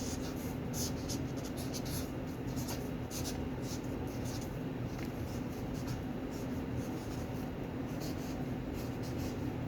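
A pen drawing on paper, a steady scratching of short strokes repeating over a continuous room hum, close and moderately quiet, with no talking.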